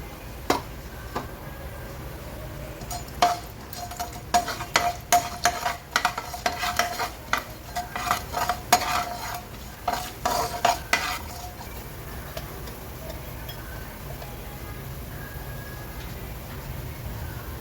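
Urad dal and chana dal fry in hot oil with cumin in a pan, crackling softly as a spoon scrapes and clinks against the metal in a run of quick, irregular stirs.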